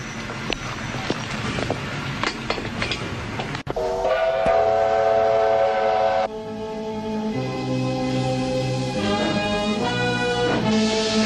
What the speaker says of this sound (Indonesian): Kereta siap berangkat.